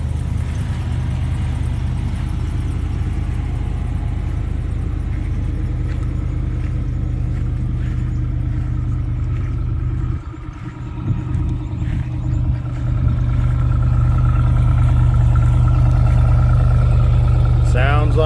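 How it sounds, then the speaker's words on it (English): A gas Ram 2500 pickup truck idles with a steady, low, rumbling exhaust heard up close, unchanging for most of the stretch and briefly dipping before settling again. "Let you listen to the exhaust."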